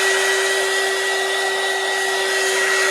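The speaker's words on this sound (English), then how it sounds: "if you mind the dryer" A hair dryer runs steadily and loudly for the whole stretch, a constant whooshing blow with a fixed motor whine and no voices over it.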